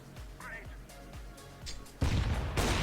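Gunfire in the shooter game CS:GO, a burst of sharp shots at the end after quieter rhythmic thuds, with game sounds underneath.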